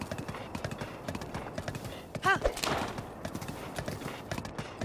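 Horse hooves clip-clop steadily while riding through a canyon in the video game Breath of the Wild, with a brief whinny partway through and quiet talk underneath.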